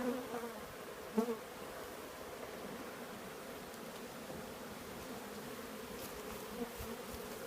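Honey bees crawling over sealed brood frames in a nuc hive give a steady, soft, low buzzing hum throughout, with a faint bump near the start and no talk.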